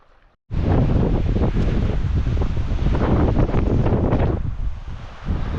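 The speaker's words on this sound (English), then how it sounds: "that gust wasn't bad, but we are definitely back to the extreme winds of yesterday" Strong wind gusts roar across a microphone outdoors in mountain lion country, a loud sustained blast that starts abruptly and batters on for several seconds before easing slightly.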